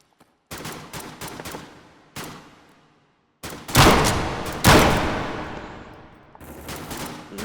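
Gunfire rings out in the virtual reality shooter H3VR: several loud, sharp bursts of rapid shots, each fading with an echoing tail, separated by brief quiet gaps.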